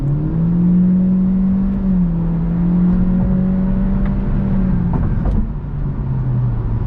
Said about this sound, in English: I'm gonna floor it, see how fast this car goes